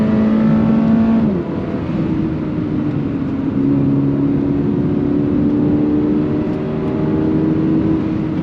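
A sports car engine roars loudly up close in second gear, pitch climbing steadily as it accelerates, with a whining mechanical tone underneath.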